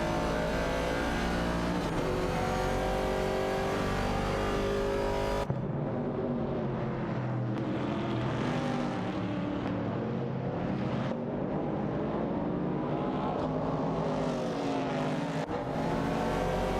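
Race cars in a racing video game accelerate down the straight, engines droning loud and continuous with rising and falling revs and overlapping tones from more than one car, no voices present.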